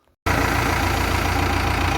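A 2018 JCB 3DX backhoe loader's diesel engine cuts in abruptly after a brief silence and settles into a loud, steady, close idle with a constant throbbing rumble.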